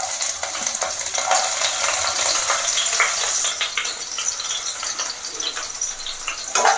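Chopped garlic hits hot white oil in a wok and fries with a loud, steady crackling sizzle. Faint stirring clinks run through it, and no one speaks.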